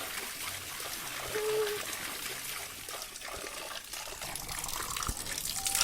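Water trickles quietly from a small water source, a soft continuous dribble with faint background noise and no clear speech.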